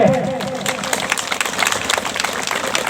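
A crowd at a Sarna religious gathering claps loudly and steadily in welcome, dense continuous applause filling the space with a faint voice at the very start.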